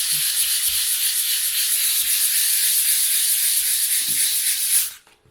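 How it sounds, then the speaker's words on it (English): 220-grit sandpaper rubbing off excess putty over filled nail holes during paint prep: a loud, steady, close hiss of sanding that runs continuously for about five seconds, then stops abruptly. "To sand off the excess putty."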